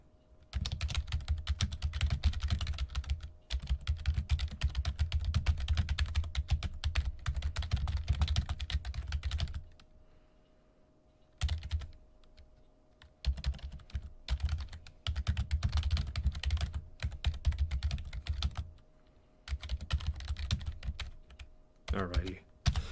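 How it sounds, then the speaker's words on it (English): Computer keyboard typing in rapid, uneven bursts, close and clear, with a few short pauses between stretches of keystrokes. "I'm not that fast of a typer."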